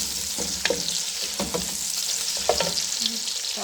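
Chicken frying with onions and ginger garlic paste in a pot keeps up a continuous close sizzle, broken by several short scraping stirs and clinks of a spoon against the metal, no one talking.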